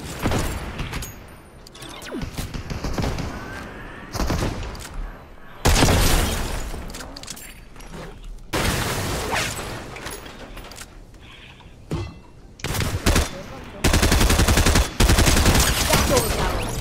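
Pistol and shotgun fire in a Fortnite match comes in sharp, loud bursts of several shots at a time, spread unevenly with short quiet gaps between the volleys and other game sounds.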